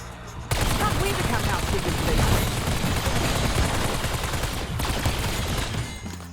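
An automatic rocket launcher in the video game Call of Duty Zombies fires a continuous, loud barrage of rapid blasts and explosions that runs almost unbroken for around six seconds.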